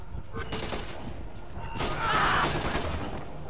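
Gunfire rings out in the stealth game Splinter Cell: Conviction, a dense, muffled volley of shots that swells toward the middle with a bright crackle before tapering off.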